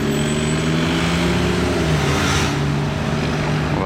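A modified car, with a modified BMW M2 or McLaren 650S nearby, accelerates past as a loud, steady engine roar with a rising harmonic tone, up close and without speech.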